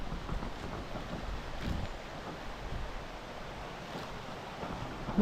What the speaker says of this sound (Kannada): ಇಲ್ಲಿ ಕೆಳಗಡೆ ನೀರು ಹರಿತಾ ಇದೆ